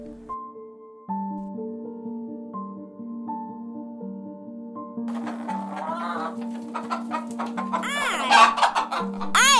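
Hen clucking and squawking rises over a steady musical melody in the second half, growing louder toward the end.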